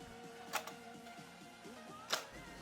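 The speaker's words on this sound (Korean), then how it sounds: "볼트 캐치를 눌러서 노릿에 전진을 시킬 수 있습니다." The bolt of an Academy SCAR airsoft electric rifle with a blowback and bolt-catch upgrade snaps forward when the bolt catch is released, giving two sharp, close mechanical clacks about a second and a half apart over a faint background hum.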